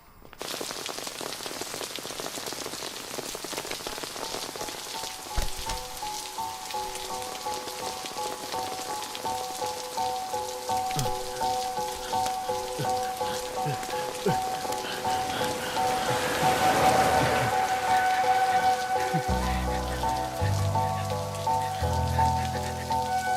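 Heavy rain pouring down outdoors, a dense steady hiss of drops hitting surfaces that swells slightly toward the end, with faint tonal background sounds and no speech.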